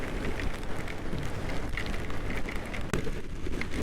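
Monsoon rain falling while a vehicle is ridden near Sakleshpura, a steady moderate hiss of water with scattered patters and gusty rushing, no talk.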